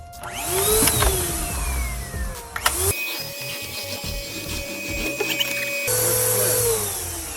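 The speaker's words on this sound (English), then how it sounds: "Let me vacuum first." A vacuum cleaner drones loudly and steadily inside a Ford Transit van, its motor pitch shifting as it switches on and off and bumps around in between.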